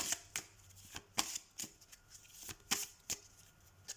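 Tarot cards being shuffled and cut by hand, a series of soft, irregular papery slaps and snaps close by, spaced about half a second apart.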